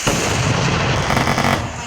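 Firecrackers set off for a festival celebration burst in a dense, continuous crackle of overlapping pops, loud and close, with heavier booms mixed in throughout.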